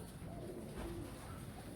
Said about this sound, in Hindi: ये सारे के सारे कस वाले कबूतर हैं माशाल्लाह से।